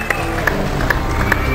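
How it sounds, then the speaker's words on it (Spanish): A dense crowd applauds and cheers for dancers on stage at a dance competition final, a steady wash of clapping and crowd noise with a few sharper accents recurring throughout. "es enorme el aplauso para todos ellos en el escenario"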